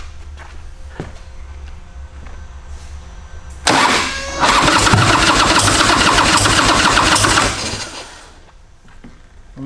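A 2000 Harley Davidson Fat Boy motorcycle engine cranks and catches roughly for about four seconds, loud and close, then cuts out, leaving a quiet low hum and a few light knocks.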